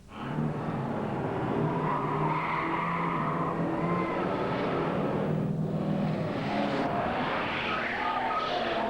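Cars at an illegal street drag-racing night in Melbourne skid and squeal their tyres over revving engines, a sustained, loud screech that rises and shifts as vehicles pass, with crowd noise faintly underneath.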